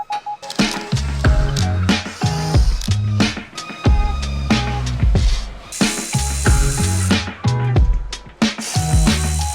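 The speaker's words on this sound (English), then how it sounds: "going to remove the bolts from the cross member attaching to the frame" A ratchet works loose the bolts holding a Nissan 370Z or Infiniti G37 subframe cross member to the frame, sounding as close, rapid clicking bursts broken by metallic clanks and short pauses.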